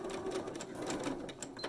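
A home sewing machine backstitches across a small fabric mini stocking, giving a steady, close, rapid mechanical whir for under two seconds, with no voices over it.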